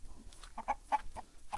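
Chickens clucking in a backyard coop, several short soft clucks in an irregular sequence, faint and close with quiet surroundings.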